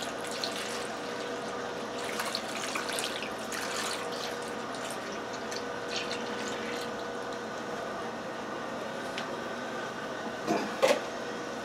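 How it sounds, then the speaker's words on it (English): Soy sauce pours steadily onto brown sugar in a dish, a soft, even liquid trickle that runs throughout, with a brief clink near the end. "then we'll add 4 cups of soy sauce to this"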